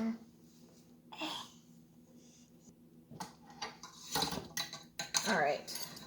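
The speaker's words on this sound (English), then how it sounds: "We're gonna grab a spoon." Dishes and a spoon clink and clatter in a home kitchen, quiet at first, then a cluster of sharp knocks and scrapes near the end.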